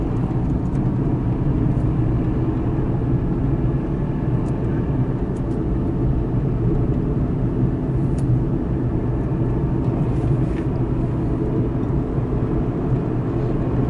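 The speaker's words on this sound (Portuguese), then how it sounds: "Mas só um caminhão que tá gerando tudo isso." A heavy low rumble of road traffic fills the scene on a road in Iporã, Paraná, as a truck passes. The deep engine drone stays loud and steady throughout, with no voices heard.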